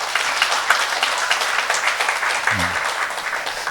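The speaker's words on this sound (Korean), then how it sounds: "우리 요 캄보디아에서 오신 친구 한번 박수 한번 주세요." Church congregation applauding during a Korean sermon, a steady wash of clapping filling the room, with a brief low voice note near the end.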